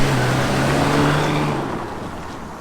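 A BMW Z3 3.0 litre sports car accelerates hard, its engine note rising loud and close before fading slightly as it pulls away, with no talking over it.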